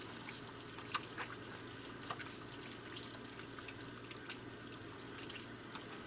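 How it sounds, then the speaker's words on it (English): Steady hiss of a tap running, with light splashes and small clicks as hands are washed under it; fairly quiet and continuous. "first thing I'm going to do is wash my hands."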